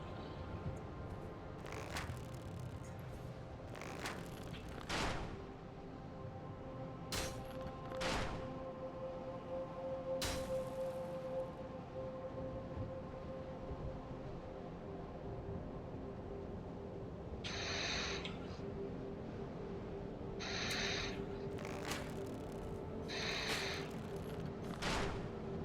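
Arrows loosed by Anor Londo archers in Dark Souls: a series of sharp thuds and snaps spread irregularly over a low ambient hum, some in quick groups of two or three, fairly faint and without talk.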